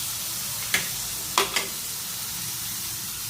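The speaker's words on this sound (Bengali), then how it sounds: "ওদিকে মাশরুমটা ফ্রাই হচ্ছে, এদিকে আমি আর একটুখানি বাটার দিয়ে দিলাম" Mushrooms fry in butter in a pan with a steady, close crackling sizzle, broken by two or three sharp clinks of a utensil against the pan.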